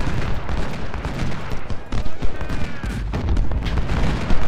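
Massed musket volleys rattle in the Civil War battle game Ultimate General: Civil War, with dense overlapping shots and rolling booms that continue throughout.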